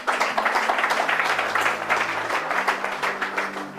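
An audience applauds during a Bible teaching, with dense, steady clapping that stays loud throughout and has no voices over it.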